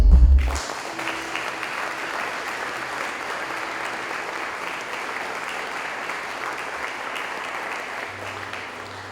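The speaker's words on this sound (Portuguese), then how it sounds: "Aplauda o Senhor." A church congregation breaks into sustained applause that continues steadily for several seconds, with a few louder thumps at the start.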